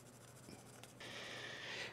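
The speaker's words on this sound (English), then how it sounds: "you're going to take a pencil, and you're just going to mark up the whole back of your blade" A pencil scratches steadily across the flat steel back of a wood plane blade, marking it up. The soft, close scribbling grows stronger in the second half against quiet room tone.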